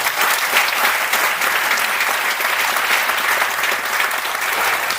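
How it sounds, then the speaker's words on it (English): A final round of applause for honorees at a leadership awards celebration, a loud, sustained wash of many hands clapping evenly throughout, close and full with no speech over it. "One final round of applause for them."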